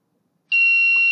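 An Arduino buzzer alarm, triggered once a hand is lifted off its light sensor, switches on abruptly after silence as a loud, steady high-pitched electronic tone, close and continuous.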